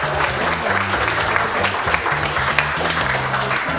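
Applause at a dinner challenge greeting the soup course: steady, dense clapping fills the room without a break, with a low sustained tonal hum underneath.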